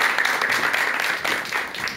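An audience in a lecture hall applauds to welcome psychiatrist Dr. Jeon Hyun-su before his talk on anxiety, a dense, steady wash of clapping that slowly fades over two seconds.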